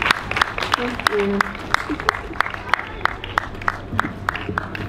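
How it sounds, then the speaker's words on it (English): An outdoor block party talent show audience gives a sparse round of applause, scattered claps over steady crowd murmur, with brief voices and a short tonal sound early on. "Thank you for that lovely round of applause for Carolyn."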